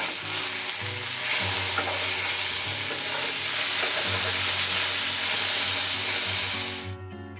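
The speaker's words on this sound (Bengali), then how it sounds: "তো চলো ভেন্ডিটা ভেজে নিই" Okra (bhindi) frying in a hot pan, a loud continuous sizzle and hiss with faint stirring scrapes, heard close and alone without voices, fading out at the very end.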